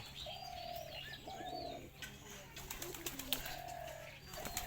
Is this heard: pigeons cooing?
yes